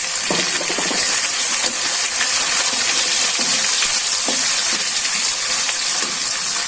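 Sliced green chilies and onions frying in oil give a steady, close sizzle with a few soft clinks and stirring scrapes scattered through it.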